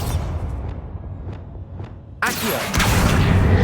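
Bombarda blast spell in Hogwarts Legacy, a sudden loud booming burst midway that keeps rumbling to the end, after quieter magical whooshes and a spoken incantation.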